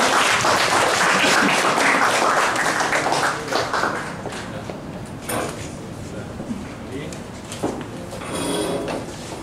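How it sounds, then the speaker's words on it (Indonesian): A burst of applause from guests at an engagement ceremony, dense at first and then thinning into scattered claps that swell again near the end, with voices murmuring underneath. "kita semua beri tepuk tangan untuk peserta"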